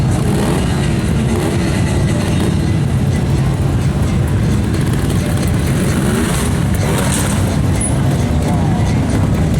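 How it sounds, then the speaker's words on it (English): A motorcycle's engine is revved hard with a stiff throttle to wheelie up a ramp onto a trailer at a stunt show in Sturgis, South Dakota. The roar is loud and continuous, close by and unbroken by talk. "I'm going to give the bike a stiff throttle. That's going to make it wheelie."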